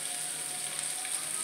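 Cauliflower and carrot sauté in a hot pan, giving a steady, close sizzle and crackle with no talking.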